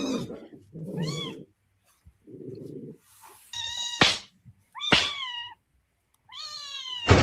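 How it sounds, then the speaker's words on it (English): A kitten gives several high, clear meows in short bursts with silent gaps between them, close and loud, alongside a few lower rustling or breathy noises. "That's a kitten."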